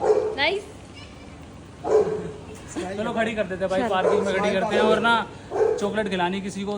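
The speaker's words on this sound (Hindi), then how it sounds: "ये कुत्ते भौंक रहे हैं।" Several dogs bark and yip in short bursts that come near and loud at times, mixed with people talking about parking a Kawasaki ZX10R superbike.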